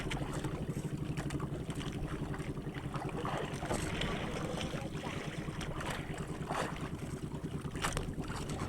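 Steady low drone of a fishing boat motor over the sea during tuna fishing, with wind buffeting the microphone and faint splashes throughout; no clear talking.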